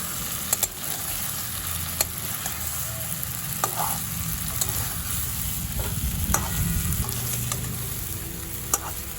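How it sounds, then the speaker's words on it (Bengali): Fried potatoes with spices, peas and tomato get stirred in a pan: a constant sizzle with scattered clicks and scrapes of the spatula against the metal, close and without speech. "মশলার সাথে আলুটা খুব ভালো করে মিশিয়ে দিয়েছি"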